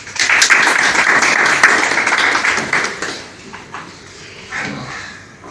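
An audience at a certificate ceremony claps in a burst of applause that fades after about three seconds, leaving a few scattered claps.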